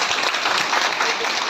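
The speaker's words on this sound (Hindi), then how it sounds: "अपने सब ताली बजा के इनका एक बार स्वागत।" An audience applauds to welcome a Bihar government guest named Manjhi arriving at a public gathering: dense, steady clapping from many hands with no pauses, fairly loud and close.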